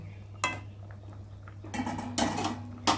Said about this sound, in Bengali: একটু খুন্তি দিয়ে ঘেটে দেব মাছগুলোকে যাতে ঝোলের মধ্যে ডুবে যায়